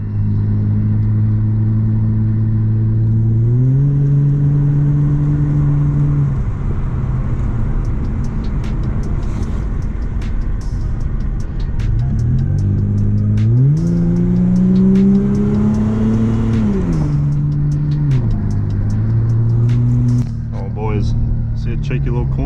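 Engine of a Ford AU Falcon driving on a mountain road, rising and falling through gear changes as the car revs hard into corners and skids, loud and continuous throughout.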